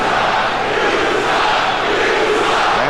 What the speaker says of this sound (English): the crowd reacted to the last, what they felt was a non-call